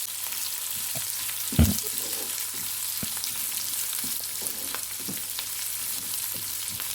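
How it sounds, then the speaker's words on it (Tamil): Chopped onions sautéing in a pan, a soft continuous sizzle with a single loud spoon knock early on and faint stirring scrapes throughout. "வெங்காயம் சேர்த்துட்டு வதக்கி விட்டுக்கலாம்."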